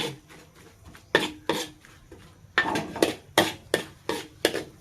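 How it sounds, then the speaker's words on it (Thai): A spatula scrapes and knocks against a pan while ripe jackfruit is stir-fried with egg, a run of loud, fairly regular metallic strikes and scrapes up close. "ผัดไปจนพอขนุนนุ่มๆนน้ำผัดแห้งๆ"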